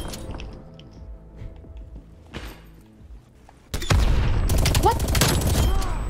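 Dense automatic gunfire from a video game weapon breaks out suddenly and loudly partway through, preceded by quieter game sounds and a brief spoken exclamation.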